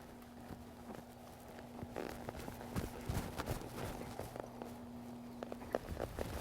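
Horse hooves clip-clop in a cutting pen, a faint, uneven run of soft thuds that grows busier midway as the horse is ridden into a stop, with no voices.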